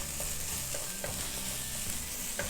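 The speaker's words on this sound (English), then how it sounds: "we are gonna allow these onions to saute just a bit in the oil" Onions saute in oil, a soft continuous sizzle with faint scattered ticks of stirring, heard close and alone without talk.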